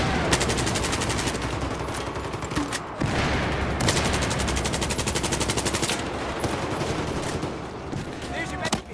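Sustained automatic gunfire in a Battlefield multiplayer match: dense rapid bursts rattle almost continuously, with brief pauses and sharp cracks, loud and close throughout.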